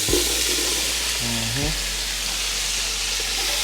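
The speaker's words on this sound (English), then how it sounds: "Our skillet's still nice and hot. We're gonna add the mirepoix now." Diced carrots, celery and onion hitting a hot skillet still coated with fond from seared short ribs, a loud, steady close-up hiss and sizzle that keeps going after a brief scrape and clatter at the start.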